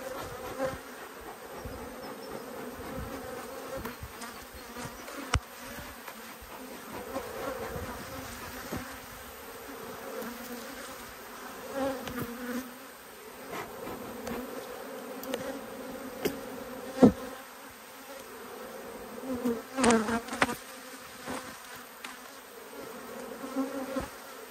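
Honeybees swarm and drone around an open, crowded hive, a dense continuous buzz with individual insects zipping close past now and then, unaccompanied by voices.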